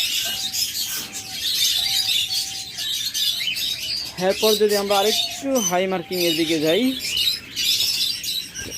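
Pet birds for sale in a bird shop, close-ring running pairs, chirp and squawk nearby in bright repeated calls while someone talks over them.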